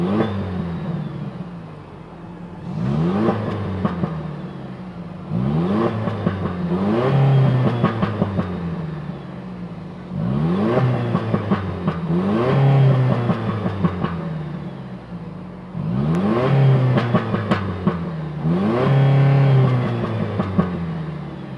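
The 2.4-liter turbocharged hybrid four-cylinder of a 2025 Toyota Tacoma Trailhunter revs repeatedly, about five rising and falling rev cycles separated by idle. Recorded close and at moderate loudness, with no talking.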